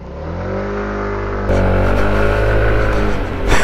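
A SYM ADX 125 scooter's engine revs up loudly and close, then pulls away as the rider sets off, its pitch climbing in a smooth continuous whine.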